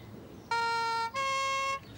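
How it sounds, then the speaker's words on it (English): A siren in a comedy scene is toyed with, two loud sustained harmonic wails broken by a short gap, the pitch stepping up on the second burst, with no talk over it. "Stop playing with that siren"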